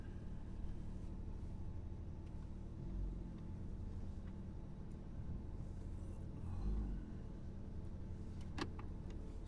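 A Porsche 992 GT3 drives in normal mode with its exhaust valves closed, a quiet low engine hum and road rumble steady in the cabin, with occasional soft clicks.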